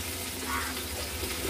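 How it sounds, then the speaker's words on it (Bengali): Water poured into a bowl holding salt, turmeric and chili powder, a short steady splashing pour heard close, with no talk. "বাটির মধ্যে একটু নুন আর এই হলুদ আর লঙ্কার গুঁড়ো নিয়ে নিয়েছি, সেটা একটু জল দিয়ে গুলে নেব"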